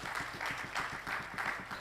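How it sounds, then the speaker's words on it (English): Brief, soft applause for panelists at an anniversary symposium, a short burst of clapping with a loose pulsing rhythm and no voices. "Please, a round of applause, please, for our panelists."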